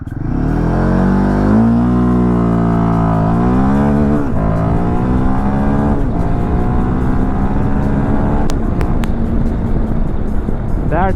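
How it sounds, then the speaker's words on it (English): A Royal Enfield Himalayan 450 motorcycle accelerates hard from a launch in first gear, its loud engine note climbing and dropping with each upshift through the gears, close and continuous with no talking. "Let's do a quick acceleration test on the Himalayan 450."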